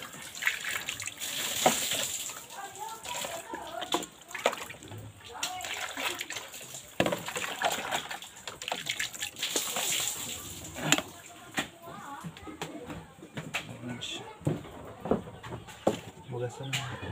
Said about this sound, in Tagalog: Hugasan mo natin itong isda.